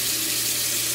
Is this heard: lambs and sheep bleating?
no